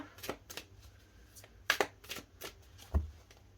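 Tarot cards being shuffled in quick riffling bursts, several crisp flurries with short pauses between them, close and fairly quiet.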